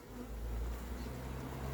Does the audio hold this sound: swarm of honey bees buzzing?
yes